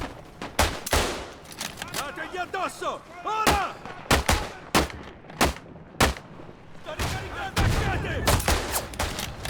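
Gunfire in the World War I shooter Isonzo on the Marmolada mountain map: a dense run of sharp shots, some loud and close and others more distant, fired in irregular bursts, with faint voices in the background.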